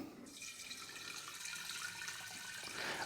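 Water poured into a flower vase being filled for a dahlia and Japanese knotweed arrangement, a steady close splashing trickle lasting a few seconds with no talk.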